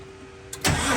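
Vehicle engine cranking and catching after the ignition button is pressed, a low steady hum abruptly giving way to a loud burst of engine noise.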